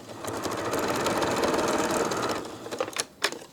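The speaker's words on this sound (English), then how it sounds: "I'm just stitching around these edges to keep the backing fabric and the top together" A serger sewing machine stitches around the edges of a quilt-as-you-go panel, joining backing fabric to the quilt top: a steady, close, rapid mechanical whir that runs continuously, then breaks into a few short bursts near the end.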